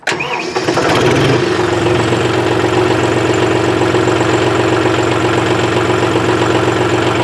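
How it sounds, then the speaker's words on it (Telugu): A John Deere 5039D tractor's diesel engine cranks and fires, then settles into a steady, loud idle with a continuous exhaust rumble that runs unbroken to the end. "ఇప్పుడు ఈ వెహికల్ స్టార్ట్ చేస్తాను, ఒకసారి ఎగ్జాస్ట్ సౌండ్ అయితే వినండి."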